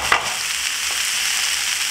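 Smoked herring fries in a pan with a steady, close sizzle and light crackle, plus a brief stir or clatter near the start; no talking.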